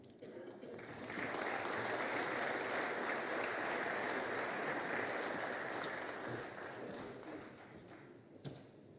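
An audience at a book launch applauds General Petraeus and General Petrescu, with steady, dense clapping that swells and holds before slowly thinning out.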